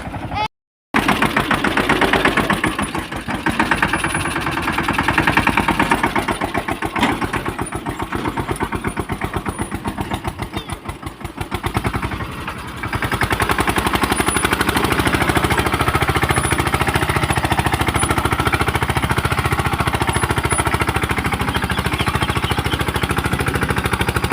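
A farm tractor's diesel engine runs in a field on the way to sow sorghum, chugging with a rapid hard clatter for about twelve seconds before settling into a steadier, smoother drone, loud and close throughout.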